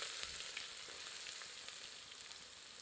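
Onions fry with whole cloves and cardamom in oil over medium heat for a creamy chicken korma, giving a soft, even, continuous sizzle with faint crackle, quiet and close, with no talk.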